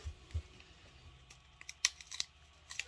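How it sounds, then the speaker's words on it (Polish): Scissors cutting green paper during a children's craft session at home, heard as faint, quiet snips and light crinkles in a soft, still room, with no voices. "weźmiemy nożyczki"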